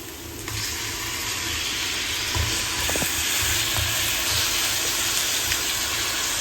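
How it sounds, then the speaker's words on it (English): Tomatoes sizzle steadily in a hot pan of browned onions for a chicken handi, a continuous broadband hiss with faint crackles and a few soft utensil taps, close and even throughout. "So I've actually thrown in my tomatoes."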